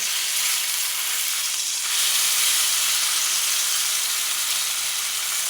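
A Teres major (petite tender) steak sears in a preheated cast iron pan over medium-high heat, producing a loud, continuous close-up sizzle and hiss that swells slightly partway through, with no one speaking.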